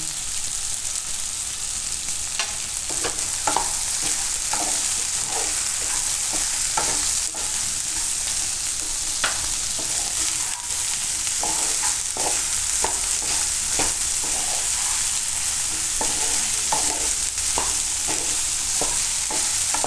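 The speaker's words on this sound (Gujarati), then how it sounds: "ભીંડાને આપણે ધીમો ગેસ રાખીને ચડવા દેવું ને વચ્ચે વચ્ચે હલાવતા રહેવું." Okra with salt frying over low heat for bhinda parotha, a continuous even sizzle with occasional spoon scrapes and taps as it is stirred, close and steady, no voices.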